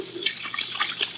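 Running tap water splashing into a sink while hands are rinsed, a steady soft hiss with small irregular drips and splashes, close and moderately quiet, no voices.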